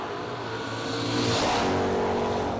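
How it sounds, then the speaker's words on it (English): A Ford Mustang drag car at a no-delay drag racing event roars hard off the line, its engine loud and rising in a steady, harsh growl through the whole short burst, with no voices. "That good-looking, very fast Mustang. And the Mustang turns it red"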